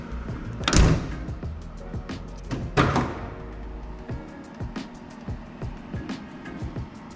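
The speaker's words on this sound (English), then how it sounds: "when you look down here, as the tailgate's closing, you can see there's some wiggle room and everything shuts nicely" A vehicle tailgate closes with a powered whir and two solid thunks near the start, followed by softer clicks and knocks.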